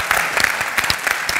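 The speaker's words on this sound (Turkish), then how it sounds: "Kocaman bir alkış alalım." Studio audience applause on a game show, a short, loud burst of dense clapping with a few sharper claps standing out.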